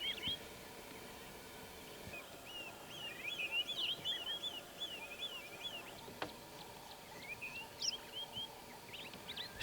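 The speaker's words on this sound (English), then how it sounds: "These African shell ducks were nice to see close up" African shelducks and other water birds at a dam calling in repeated honking, chattering notes, fairly faint and somewhat distant, over quiet background.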